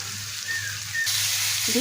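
Fish curry sizzling steadily in a pan on a stove, a continuous loud frying hiss with a brief stir or clatter near the end, no talk.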